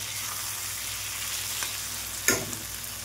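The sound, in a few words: small fish frying in a pan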